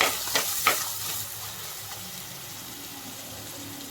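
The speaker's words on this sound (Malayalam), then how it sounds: "കുറച്ച് ഉലുവ പിന്നെ ചേരുവകളെല്ലാം ഇട്ട് വഴറ്റുക" Fenugreek seeds and spices sauté in a pan for a mackerel fry with a continuous hissing sizzle, opening with a couple of sharp stirring clinks and then settling into a steady fry.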